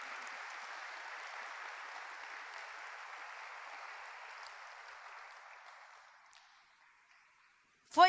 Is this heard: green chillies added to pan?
no